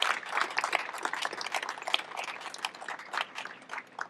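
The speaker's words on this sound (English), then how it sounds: "Round of applause for the city and the people of Ann Arbor." Dense applause from an audience at an LGBTQ+ historical marker ceremony in Ann Arbor, Michigan, fairly faint and steady, with scattered sharper claps rising and falling over about four seconds.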